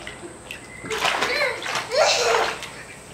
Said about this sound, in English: Look what Connor's first time swimming without floaties